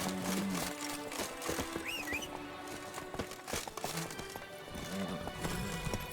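The horse Roach galloping in The Witcher 3, a rhythmic run of hoofbeats with a brief whinny partway through, set against an ambient game soundscape.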